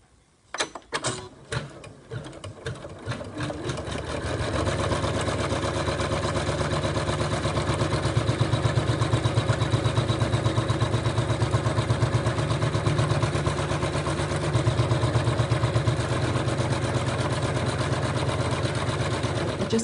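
An embroidery machine stitching a tack-down line on an appliqué, starting with a few sharp clicks, then a steady, fast mechanical whirr that runs close and loud for the rest of the clip.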